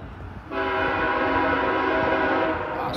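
A Union Pacific SD70M locomotive sounds a loud, sustained horn close by at Creighton, Pennsylvania, its chord holding for about two and a half seconds over the rumble of the passing train.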